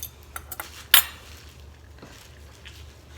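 Metal utensils clatter against a crockpot as tender carnitas pork with onions is lifted out, one sharp clink standing out among a few softer taps before quiet.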